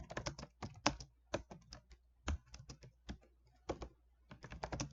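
Rapid irregular clicks of typing on a computer keyboard, close and clear, in uneven bursts with brief pauses between keystrokes and no speech.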